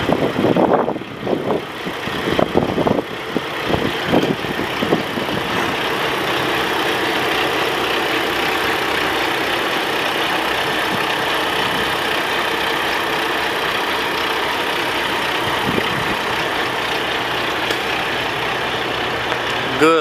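A 2016 Kenworth T880 day cab truck with 397,000 miles sits idling, a steady low engine drone that holds evenly throughout, after a few brief knocks and handling sounds at the start.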